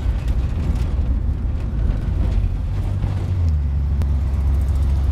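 A 1971 Ford Mustang Mach 1 with automatic transmission heard from inside while driving: a steady, deep engine rumble with road and wind noise, loud and continuous throughout.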